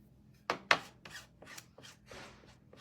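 A little mini squeegee scrapes paste across a transfer in a few short, dry rubbing strokes, close and quiet, with soft pauses between passes.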